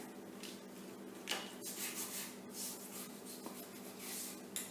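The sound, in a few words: burnishing paper for a mini album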